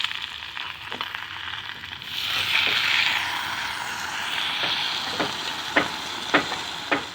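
Chopped eggplant and drumstick leaves hitting a hot oiled pan, a steady sizzle swelling as they go in, then several sharp clinks and scrapes of a spatula stirring, no voices.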